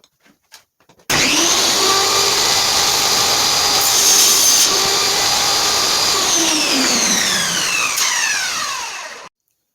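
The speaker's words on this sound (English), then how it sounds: "take my jigsaw and then cut out the middle" Jigsaw cutting out the middle of a wooden handle guard for a short sword, a loud sustained buzzing whine after a few faint taps, steady throughout and tapering off as the cut finishes.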